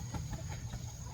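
A few short, soft clucks from chickens sound in quick succession over a steady background hum.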